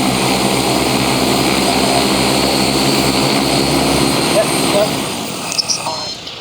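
Drone propellers on a flying 3D printer drone whir at half throttle during its maiden flight, a loud, steady, close buzzing drone with layered harmonic tones that eases off near the end.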